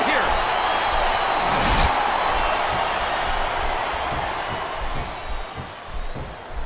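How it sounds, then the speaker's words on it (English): Arena crowd from the WWE SmackDown vs Raw video game at a Ric Flair versus Triple H steel cage match, Taboo Tuesday 2005: a dense, steady roar with scattered thuds and cheers, loud and continuous, slowly easing toward the end. "This capacity crowd is making their opinions known tonight."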